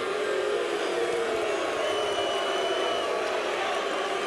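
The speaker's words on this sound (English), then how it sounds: "And the crowd reacts." An arena crowd watches a boxing fight and reacts to a blow landed on a downed fighter with a sustained, distant roar and murmur, while a commentator's voice runs over it.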